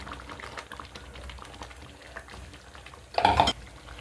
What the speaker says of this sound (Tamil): இப்போ வந்து மோர் ஊற்றிக்கலாங்க.